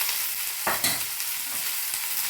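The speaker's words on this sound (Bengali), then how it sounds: "এবার এটা একটু নাড়াচাড়া করে নিচ্ছি।" Green chili and snake gourd sizzling in a hot pan, a steady frying hiss with a few scraping stirs of a spatula partway through.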